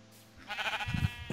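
Sheep in the Minecraft video game bleat in a short run of wavering, nasal calls, moderately loud and close, with no talking over them.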